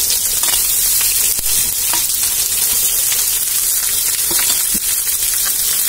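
Chopped onion sizzles steadily in hot oil for a dosa batter mix, a dense continuous frying hiss with small crackles and occasional spatula scrapes, close and loud throughout.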